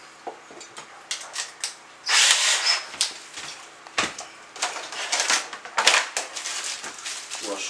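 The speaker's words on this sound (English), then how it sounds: "Pull our screws out." A drill with a screw bit backs screws out of a door knob, giving short bursts of whirring and grinding mixed with clicks and rattles, close and fairly loud, with brief pauses between runs.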